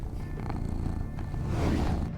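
A Burmilla cat purring up close, a continuous low rumbling drone that holds steady and swells slightly toward the end, with no other sounds over it.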